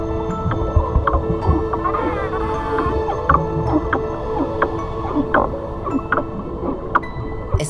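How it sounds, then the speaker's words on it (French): Dolphins and other cetaceans calling underwater, with scattered clicks, short whistles and pulsed calls repeating over a steady low watery rumble and hum. "Tous ces sons émis par les dauphins et les autres cétacés"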